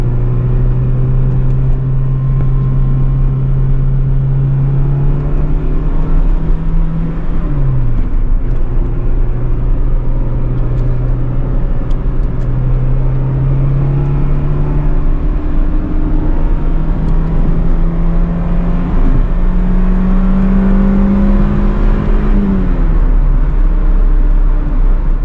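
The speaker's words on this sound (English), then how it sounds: "Take it out for a good test drive, make sure that every component is good and torqued to spec." A car out on a test drive after suspension work, its engine droning steadily and loud from inside the cabin, with slow rises and dips in pitch as it shifts and accelerates, and no talking.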